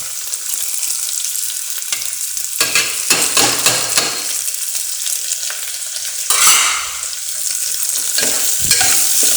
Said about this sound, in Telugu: బీన్స్ కొద్దిగా వేగిన తర్వాత అందులో క్యారెట్ ముక్కలు వేద్దాం.